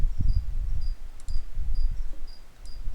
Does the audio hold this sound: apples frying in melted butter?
no